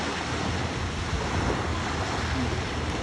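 Sea waves at the beach, a continuous broad surf wash with steady wind noise, fairly loud and close, with faint voices underneath.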